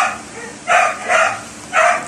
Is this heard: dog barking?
yes